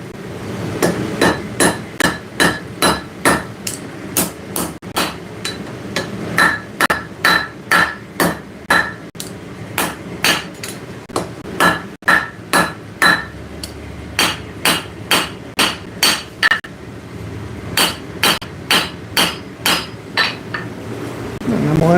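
Hot metal being forged in a workshop, a hammer striking in steady rapid bursts of ringing blows, loud and close, with short pauses between runs.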